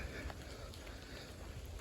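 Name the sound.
cold rain falling at Devil's Millhopper State Park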